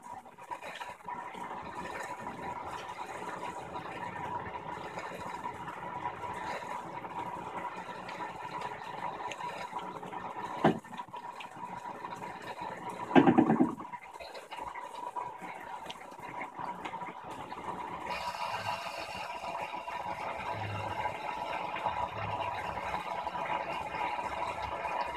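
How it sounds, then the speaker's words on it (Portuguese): An Electrolux 16 kg LDD16 washing machine agitates soaking laundry with steady sloshing water and mechanical churning, continuous and close, with a brief thump midway. "Agitação do molho."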